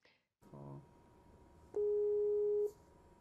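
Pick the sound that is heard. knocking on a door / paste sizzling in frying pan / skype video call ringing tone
skype video call ringing tone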